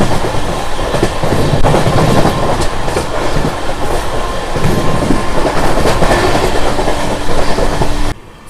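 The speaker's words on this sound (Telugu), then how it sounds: "సో మన ట్రైన్ వచ్చేసి అంబర్త్ వరకు అయితే వచ్చింది, బయలుదేరిపోయింది" Sapthagiri Express with new LHB coaches pulling out of Ambattur station, a loud steady rumble with rhythmic clickety-clack of wheels over rail joints filling the clip before cutting off abruptly near the end.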